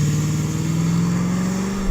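A Range Rover engine roars loud and close as the SUV launches hard from a standstill, a sustained, rising drone of acceleration with no talk over it.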